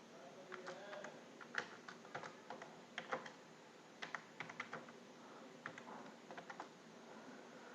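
Fingers type on a computer keyboard to enter text into a shape in MS Word, giving irregular bursts of close, crisp key clicks with short pauses between them and no voice.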